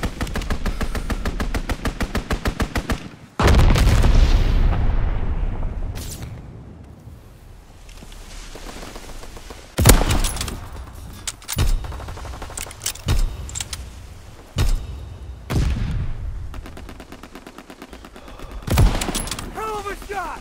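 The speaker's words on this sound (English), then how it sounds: "Fighter pilot inbound, strafing the target." A World War II fighter plane makes a strafing run in Call of Duty: WWII. Rapid machine-gun bursts rattle in a long string, then heavy booms and gunfire crash in at intervals, and speech comes in among them.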